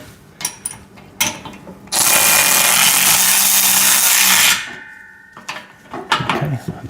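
Metal clanking and a rasping, ratcheting stretch as bolts are tightened on a home gym pec deck and rear delt machine, with scattered taps before and after a loud sustained grinding burst in the middle.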